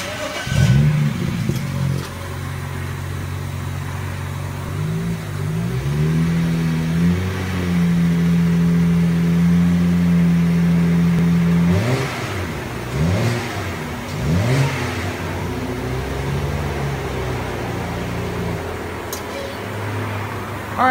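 A 2007 BMW 335i twin-turbo 3.0-litre straight-six on its stock exhaust revs up close and loudly, with a steady droning hold at high revs before settling back to a rumbling idle punctuated by a few quick blips.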